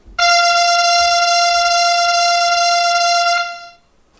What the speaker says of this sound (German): Zunächst ein hoher Taifun,